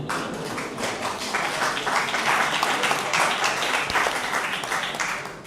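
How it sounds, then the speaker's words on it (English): An audience gives a round of applause after a limerick reading, sustained hand clapping at an even level for several seconds without talk. "Give yourselves a round of applause, you were brilliant."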